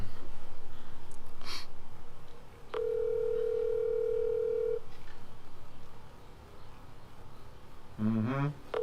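A single steady phone ringback tone sounds for about two seconds at moderate level against quiet background breathing. A brief electronic tone sequence follows near the end.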